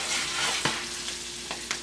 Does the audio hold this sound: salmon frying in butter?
yes